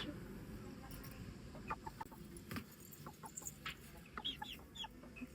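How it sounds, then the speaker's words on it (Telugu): A chicken clucks in short, scattered bursts at moderate distance over a steady, noisy background, with several brief calls spread across the clip. "సో ఇదే అన్నమాట కోడి."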